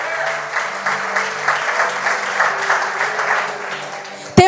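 A church congregation applauds during a worship service sermon, producing steady, dense clapping with rhythmic swells for about four seconds and a sharp louder burst right at the end.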